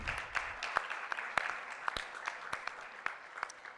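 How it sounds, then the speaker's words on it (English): Scattered applause from a congress audience, with sparse, uneven claps that sound thin and fairly distant, as though only a few people are clapping, continuing steadily without speech. "Please, another round of applause for him."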